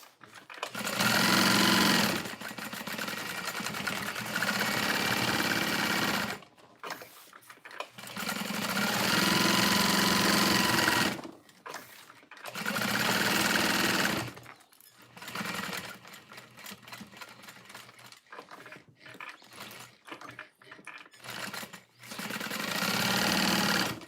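Sewing machine stitching pouches in bursts, a loud close mechanical whir that runs for a few seconds, stops briefly, then starts again, with quiet gaps between runs.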